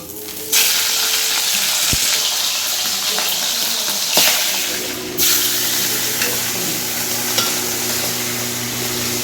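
Fish frying in a pan with a steady loud sizzle and hiss, broken by a few sharp spikes where oil spits or the pieces are moved, no voices.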